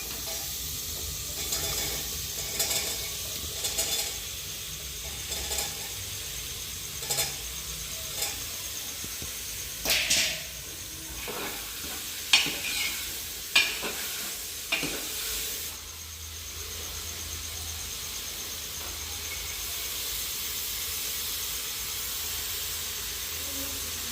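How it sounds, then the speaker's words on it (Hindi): Rice frying in a kadai to make fried rice, a continuous soft sizzle and hiss with intermittent stirring scrapes, no talk. "चावल रख के चावल भी फ्राई कर देंगे, कढ़ाई चढ़ा दी, इधर फ्राइड राइस हो जाएंगे"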